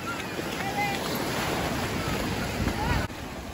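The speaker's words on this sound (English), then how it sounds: "Those waves are a little funny" Ocean waves wash onto a Florida beach as a steady, broad roar with heavy wind buffeting the microphone, continuous and fairly loud throughout.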